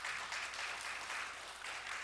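A church congregation claps during a Sunday morning worship service to welcome a new member. The steady, even applause fills the room for about two seconds and sounds somewhat distant and soft.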